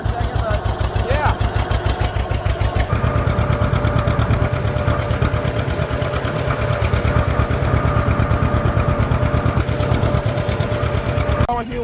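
A tractor engine runs close by with a loud, steady, rapid thumping beat and a mechanical clatter that holds throughout.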